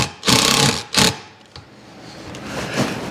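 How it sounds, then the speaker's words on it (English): A screw gun drives a screw into wooden bar panels of spalted sycamore, two loud close whirring bursts and then a short tap, followed by quieter handling noise. "we're going to go ahead and get a screw started on the bottom of all the panels"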